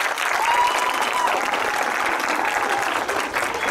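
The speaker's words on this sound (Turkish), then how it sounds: "Alkışlayalım mı?" Steady applause from a room of people after a list of honoured students is read out, dense and sustained for a few seconds with a faint voice or tone briefly over it.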